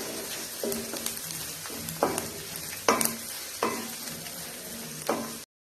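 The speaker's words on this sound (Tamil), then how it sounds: "இது எல்லாத்தையும் நல்லா பிரட்டி விட்டுக்கோங்க." Ground spices such as cumin powder stirred and fried in a pan while cooking goat blood fry, a steady sizzle punctuated by several sharp scraping strokes of a spoon against the pan, close and fairly loud with no talking.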